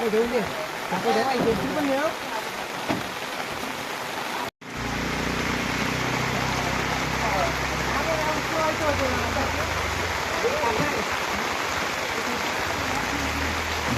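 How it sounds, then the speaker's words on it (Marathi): Steady, dense heavy monsoon rain in Lanja, Maharashtra, hissing heavily throughout, with a brief dropout partway; voices talk over it in the first few seconds. "जबरदस्त पाऊस आहे आमच्याकडे"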